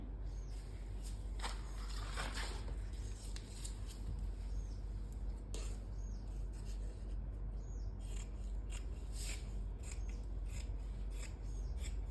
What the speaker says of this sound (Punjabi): ਕੰਨੀ ਤੋਂ ਆਪਾਂ ਜ਼ਰੂਰ ਕੱਪੜੇ ਨੂੰ ਲਾਉਣਾ ਹੈ ਕੰਨੀ ਕੱਟ ਦੇਣੀ ਹੈ